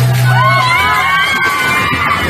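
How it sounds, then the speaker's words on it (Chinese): An audience at a Taiwanese opera performance held as a temple offering bursts into loud, overlapping screams as the wooden stage collapses, shrill cries rising and wavering together over a steady low hum. "整群人稳住阵脚，面面相觑，不到一秒，立刻大声尖叫。"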